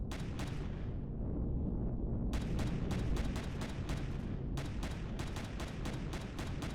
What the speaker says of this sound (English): there's a couple of small turrets on the top here, firing at us.